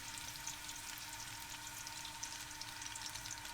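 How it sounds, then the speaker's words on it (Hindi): Finely chopped onions frying in hot oil for a chickpea curry masala, giving a steady, dense sizzle and crackle that stays at an even level throughout with no talk. "ऑयल हीट अप हो चुका है, अब हम इसमें प्याज डाल देते हैं।"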